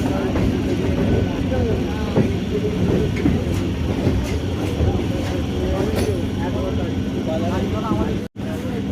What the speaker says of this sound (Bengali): দুটো ট্রেন কত সুন্দর পাশাপাশি যাচ্ছে সমান স্পিডে